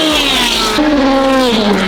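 A Pagani Huayra R hypercar engine howls loudly and continuously while drifting sideways, its pitch dropping and rising through gear changes, close and unbroken.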